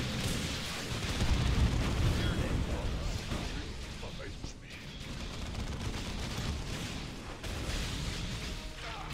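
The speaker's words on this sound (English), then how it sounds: "stop firing your freaking explosives!" Rumbling blasts and firing from the video game Dawn of War II, a dense, continuous roar of combat noise with explosions swelling in the low end and a voice speaking over the din.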